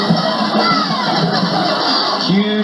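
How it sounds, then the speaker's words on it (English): A large crowd fills a stadium at a 1993 high school football game, the Battle for the Bell at Bailey Stadium, a steady roar of many voices with shouts rising from it throughout. "Huge crowd on hand here at Bailey Stadium tonight, witnessing another spectacle."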